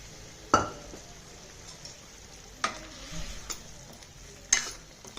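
Dal and bottle gourd being stirred in a pan with a spoon, three sharp clanks of utensil against the pan over a faint low sizzle, close and fairly quiet.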